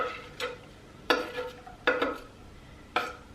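Onion goes into a pan on medium-low heat, with a faint, steady sizzle underneath four separate scraping stirs that sound close and distinct.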